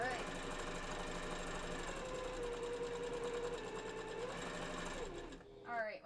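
Sewing machine stitching a fursuit bandana, a steady close mechanical whir running almost continuously before it stops near the end, with a few faint sounds after.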